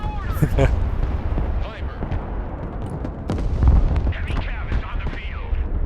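Bombing explosions in the Broken Arrow war game, several heavy booms and rumbling blasts landing one after another, loud and close, with a voice talking over parts of the barrage.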